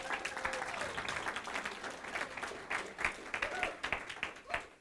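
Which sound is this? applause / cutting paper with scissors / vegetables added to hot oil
applause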